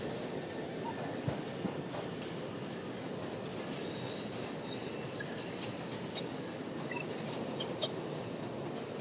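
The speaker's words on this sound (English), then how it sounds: "see a couple of trains go overhead." Elevated trains rumbling overhead on a Chicago street, a continuous heavy roar of rail cars with wheel squeal and clickety-clack rhythm, moderately distant and steady throughout with no talk.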